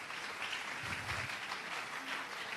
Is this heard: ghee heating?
no